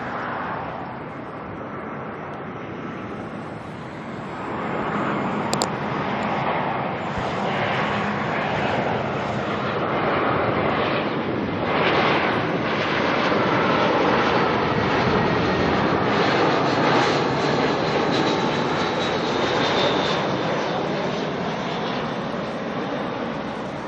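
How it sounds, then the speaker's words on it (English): Air New Zealand Airbus A320 arriving at Auckland Airport from Queenstown, its engine roar swelling from moderate to loud midway and then easing slightly, a broad steady rush with no talk. "coming in next we've got NZ620 coming in from Queenstown. Air New Zealand A320"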